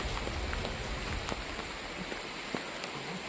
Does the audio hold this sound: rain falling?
yes